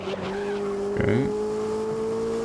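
Race car engine from the GRID (2019) racing game droning steadily throughout, with a brief burst of tire squeal and skidding around the middle, loud and close with no talk over it.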